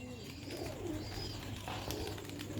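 A Sialkoti pigeon of a rooftop (chhat) flying strain coos softly and steadily, several low rolling calls close by with no talking.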